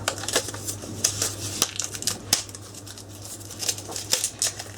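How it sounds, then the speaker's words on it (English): Crinkly rustling and sharp snips as scissors open a packet of Versamark ink, close and irregular, with no talk. "Let's just open the packet."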